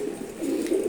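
Racing giribaz pigeons cooing softly, a low, close, continuous throaty murmur in a brief burst with no voices.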